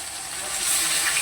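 Fish frying in hot oil for a Bengali fish curry, a steady loud broadband hiss and sizzle that swells slightly toward the end, with no talking.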